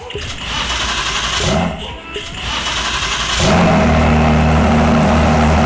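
The Tempix car in the Driving Empire video game hums with a steady, rusty-sounding engine drone that rises into a louder, fuller tone partway through, heard up close with a voice talking over it.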